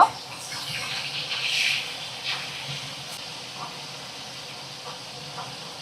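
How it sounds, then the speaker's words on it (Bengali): Fish frying in a pan, the pieces being turned over while cooking for a fish curry with drumsticks, giving a steady, moderately loud hiss and sizzle with a slightly louder burst early on and no talking. "মাছগুলোকে দেখো উল্টে পাল্টে ভাজা করে নেব"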